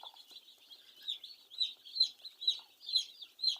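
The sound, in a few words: broiler chicks in a brooder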